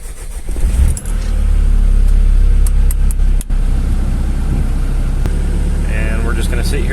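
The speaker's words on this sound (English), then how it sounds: "now it says to run the engine for 10 minutes or until thermostat opens" A car engine with a suspected blown head gasket or cracked head/block runs at a steady idle after Bar's Leaks sealant is added, a loud continuous rumble with a brief dip and some clicks, under occasional talk.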